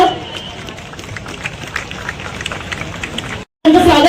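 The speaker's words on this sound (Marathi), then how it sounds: "जोरदार टाळ्या" Loud applause from an audience at a police anti-drug awareness event, a dense steady wash of clapping that drops out briefly near the end and then returns.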